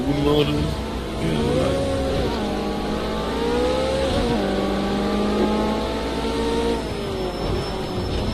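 Race car engine in a racing video game at the Dubai Autodrome, a steady loud drone with rising and falling revs and gear shifts, heard under excited talking throughout.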